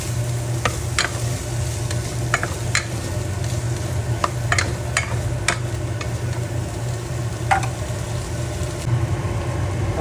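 Chicken frying in oil with onion and garlic sizzles steadily in a pan, a constant crackling hiss broken by occasional clinks and scrapes of stirring, close and even in loudness.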